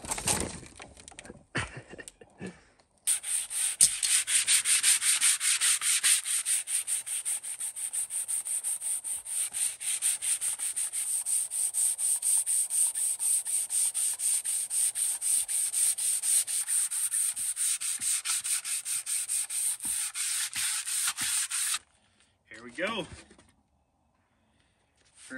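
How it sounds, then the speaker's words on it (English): Handheld power sander working over a homemade wincharger blade copied from an original, a steady close rasping hiss running for most of the stretch, preceded and followed by brief handling noises and quiet gaps. "I sanded this, gonna flip it over and do the other side."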